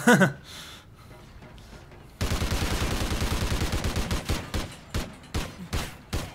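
The Ripper submachine gun in Call of Duty: Ghosts fires a long, rapid automatic burst, then shorter spaced bursts, close and punchy after a brief quieter opening.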